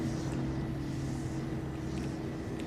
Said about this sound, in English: I think it is that ship making that noise